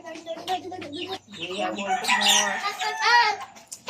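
A tired chicken clucks in a run of close, loud calls with harsh rising squawks, while a person talks nearby.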